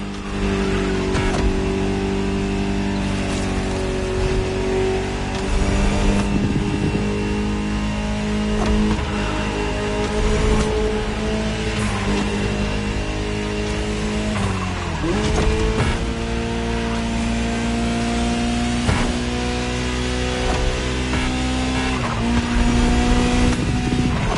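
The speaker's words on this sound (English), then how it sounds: "Just listen to the car you're driving." A high-revving Ferrari supercar engine in the video game The Crew Motorfest roars steadily, rising and falling in pitch as it shifts through gears, loud and close throughout.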